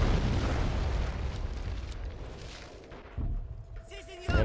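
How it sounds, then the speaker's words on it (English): Artillery shells explode in a World War II battle in the game Men of War: Assault Squad, a dense run of loud booming blasts over a constant rumble, with a short sharp burst near the end. "enemy artillery seems to be hitting their own positions"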